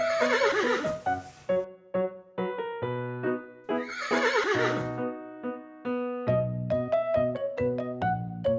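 A horse gives two loud, shaking whinnies a few seconds apart, set against a steady musical accompaniment.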